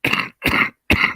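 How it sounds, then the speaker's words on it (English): Three sharp, close coughs from one person in quick succession, each short burst separated by brief silence. "I better not like that because otherwise I'll cough more."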